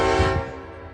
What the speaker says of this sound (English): The whole train's going by this time.